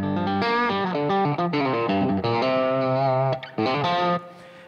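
Electric guitar run through an AMP1 Mercury Edition amplifier, playing sustained distorted chords and notes with effects, loud and continuous with brief gaps, no talking.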